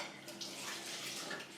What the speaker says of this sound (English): So I'm going to give my hands a quick wash.